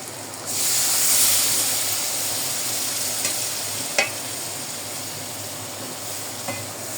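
Eggplant pieces fry with a steady hiss in a pan for fish curry, with a few sharp clinks of a utensil stirring them; no voices.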